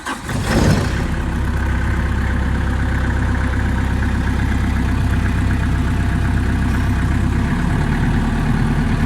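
A Denyo 30 kVA diesel generator engine idles at low RPM with a steady, deep rumbling drone, loud and close, holding even throughout.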